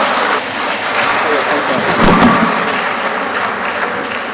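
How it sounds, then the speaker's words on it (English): Steady applause from an academic conference audience, a dense wash of clapping that holds fairly even throughout with a slight swell near the middle. "Another round of applause for Professor Ramesh Sharma."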